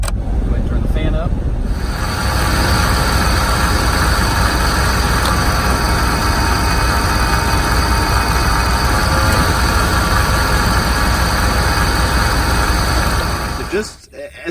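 Car engine idling with the A/C running on full blast, a steady loud broadband roar and hum of blower and engine that holds constant for the whole stretch before cutting off at the end.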